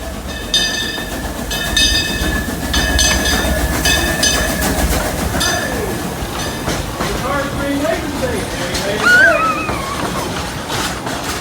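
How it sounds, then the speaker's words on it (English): A train rolls past nearby with a steady rumble and rhythmic clatter of wheels on track, loud and continuous throughout. "Mazzy, what's coming? The train?"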